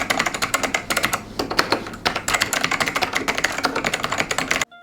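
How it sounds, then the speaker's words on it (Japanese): Rapid, clattery typing on a mechanical keyboard, dense bursts of loud clicking keystrokes at a fast uneven rhythm, close up with no voices. "私はキーボードのカチャカチャ音が大好きですが"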